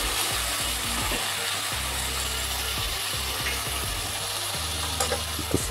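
Spices and tomatoes frying in a pan for a soybean curry, a steady low sizzle with scraping stirs and faint clinks, fairly quiet and without talk.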